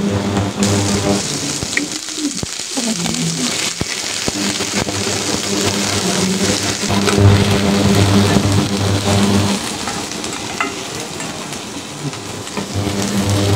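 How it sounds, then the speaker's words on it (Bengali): Garlic paste frying in hot oil for a jaggery mango pickle, a dense, loud, continuous sizzle and crackle with occasional pops, close up and steady throughout. "রসুন বাটাটা দিয়ে তেলের সাথে ভালো করে ভেজে নেব।"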